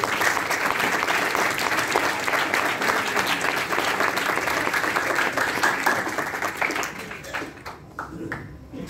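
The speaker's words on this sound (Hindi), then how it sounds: "आइए अपने लिए जोरदार तालियां बजाएं।" Loud, sustained applause from a large church congregation, steady for several seconds before thinning out into scattered claps.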